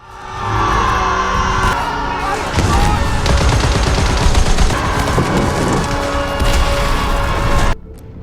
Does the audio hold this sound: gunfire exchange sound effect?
yes